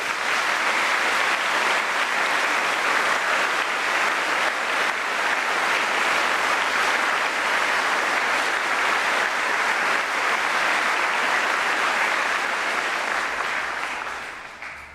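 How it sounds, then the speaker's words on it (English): A graduation ceremony audience claps for staff in a steady, dense round of applause that holds loud and even for many seconds before tapering off at the end. "show your appreciation for these staff with another round of"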